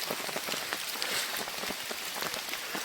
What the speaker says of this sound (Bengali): মুসলধারে বৃষ্টি হচ্ছে এখন